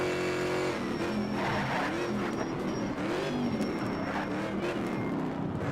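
A Ford Shelby Mustang muscle car races a track in Need for Speed Shift 2: Unleashed, its engine droning loud and steady with rising and falling revs and a faint tire squeal throughout.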